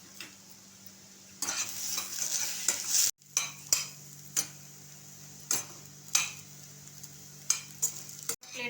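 Onion and tomato masala with green chili cooks in a pan for paneer butter masala, sizzling steadily while a spoon scrapes and stirs in repeated sharp strokes, close and fairly loud, with no talking.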